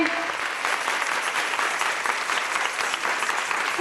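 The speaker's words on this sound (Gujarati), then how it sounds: "આપણે ખૂબ ખૂબ તાળીઓથી ગાદીવાળાને વધાવીએ" A crowd at a religious celebration gives sustained, steady applause, many hands clapping together in a dense, even roar throughout.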